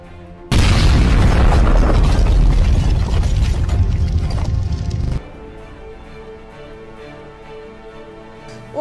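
A combat grenade explodes during a military training exercise in an animated war film, a loud close boom followed by about five seconds of roaring, crackling debris and rumble, then an abrupt drop to a quieter background.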